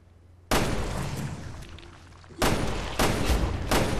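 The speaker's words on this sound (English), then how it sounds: "Shoot it right in the face, Barry." Gunfire from the survival-horror game Resident Evil Revelations 2 bursts out in loud, sharp shots: one heavy blast with a long tail, then three more quick reports in succession near the end.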